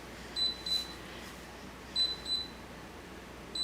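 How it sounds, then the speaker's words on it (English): Two pairs of short, high electronic beeps, spaced apart against a quiet background hum, as a Chefwave milk maker signals it has finished. "Now it's beeping to tell me it's done."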